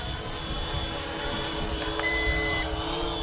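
A drone hovering nearby gives off a steady whirring drone with a faint high whine, continuous and unbroken and fairly loud throughout, with no speech.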